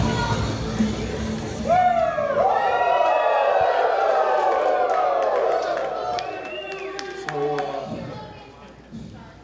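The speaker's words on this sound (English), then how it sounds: "As this crowd in Norfolk showing their admiration and appreciation for Jay Lethal." A wrestling crowd in Norfolk cheers and applauds in a sustained roar that gradually fades, while a commentator talks over the noise.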